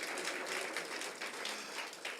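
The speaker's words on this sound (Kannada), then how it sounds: "ಜೋರಾಗಿ ಚಪ್ಪಾಳೆ ತಟ್ಟೋಣ." A church congregation claps loudly together, a dense, steady burst of many hands that fills the room without a break.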